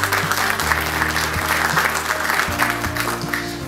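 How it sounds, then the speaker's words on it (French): A conference audience applauds at a youth council forum on diversity and citizenship, with steady clapping continuing under a low droning hum. "je vais vous demander de les applaudir"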